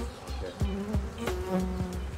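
A steady, loud insect buzz drones throughout in a residential area, with droning tones sliding up and down as bees fly close by.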